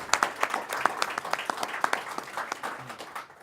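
Audience applause at a public event, a small crowd clapping in sharp, distinct bursts close by, fading slightly toward the end.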